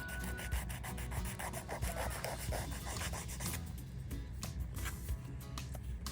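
Nail file reshaping a Gel-X gel nail, close quiet rasping strokes repeated in a quick back-and-forth rhythm over several seconds, with soft scratchy texture throughout.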